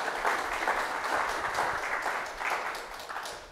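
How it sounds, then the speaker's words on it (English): Sustained applause from an audience, a dense wash of many hands clapping with slight swells, steady and moderately loud throughout. "we can applaud if we wish"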